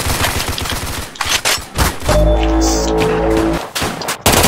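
Rapid automatic gunfire in a shooter video game, a loud sustained burst of shots up close, with shorter shots and game effects around it and no talk over it.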